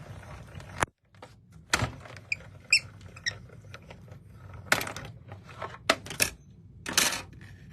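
A hand-cranked die cutting machine pressing a die through paper for an accordion pop-up card, heard as a series of sharp clicking and ratcheting bursts with brief pauses between, close up and fairly quiet.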